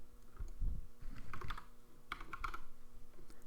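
Keystrokes on a computer keyboard while entering a number into an XP calculator for Old School RuneScape, a quick uneven run of close, fairly soft clicks with no voices.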